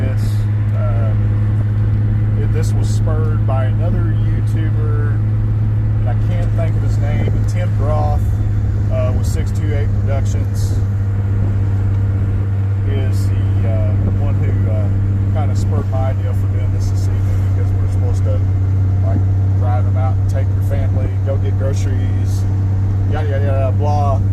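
A steady, low engine drone and road rumble inside a moving car. A person keeps talking over it for the whole stretch.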